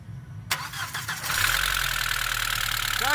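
A 1999 Volkswagen Passat with a knocking engine and low oil supply cranks and catches at about half a second, then settles into a steady, close idle that runs to the end.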